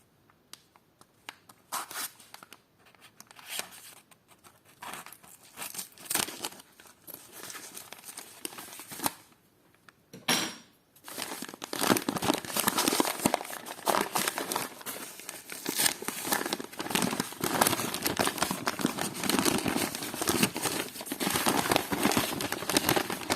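Plastic bag crinkling and rustling close up, intermittent at first, then dense continuous crackling as a small packet of vintage jewellery from a parcel is handled and opened.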